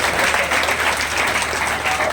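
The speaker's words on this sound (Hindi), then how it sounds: "एक बार जोरदार तालियों से स्वागत है।" Audience clapping to welcome the Udaipur Arya Samaj president at a free coaching centre event, a brief dense burst of many hands applauding loudly and steadily for about two seconds, with no speech over it.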